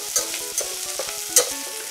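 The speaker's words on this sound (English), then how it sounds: "broccoli is sauteing right now" Broccoli sautés in a pan with a continuous soft sizzle and occasional stirring clicks, all under a steady background music track.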